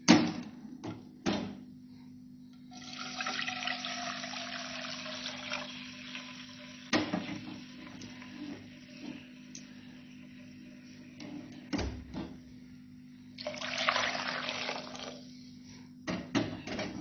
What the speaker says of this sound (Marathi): पाणी ऍड करून घेतलं आपण.